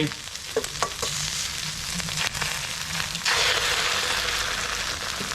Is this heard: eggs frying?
yes